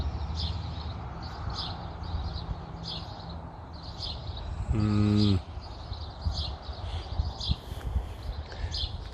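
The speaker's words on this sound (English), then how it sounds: "we can hear some birds that make very nice in the tree up there" Birds sing in a tree during an evening walk, giving short, bright, repeated chirps at a steady pace from a moderate distance over quiet outdoor background, with a brief tonal sound interrupting midway.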